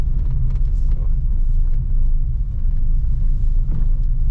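A 2023 Suzuki XL7 Hybrid SUV drives over a broken, potholed road, giving a loud, steady low rumble of tyres and suspension with occasional thumps and no break throughout.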